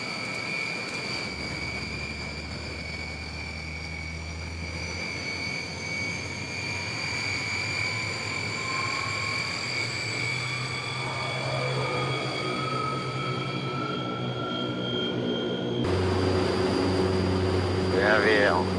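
A Fokker 27 turboprop airliner on a night mail flight accelerates for takeoff, with a steady engine drone and rising whining tones that swell louder toward the end, while cockpit voices talk over it.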